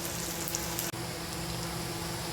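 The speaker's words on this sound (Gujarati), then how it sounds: "આપણે વઘારમાં ડુંગળી નાખી દીધી છે." Onion frying in hot oil for a tempering with mustard seeds, a steady close-up hiss and crackle of sizzling that runs without pause.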